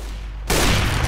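Gunfire from Counter-Strike: Global Offensive on the Inferno map erupts suddenly after half a second of quiet, giving a loud, dense burst of shots that fills the rest of the short clip.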